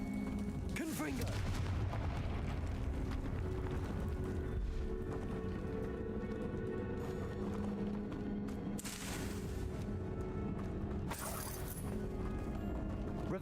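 Repeated blasts of a fire explosion spell in a wizard video game, dense booming bursts layered over constant game noise and music, with sharper flare-ups partway through.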